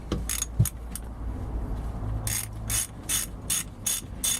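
Ratchet wrench on 12mm and 10mm cylinder head bolts of a four-stroke bike engine, clicking in quick, close bursts of rapid pawl ticks, with short pauses and a faint metallic clank between strokes.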